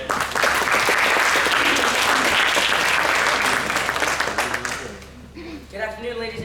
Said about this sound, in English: Give them a round of applause to start.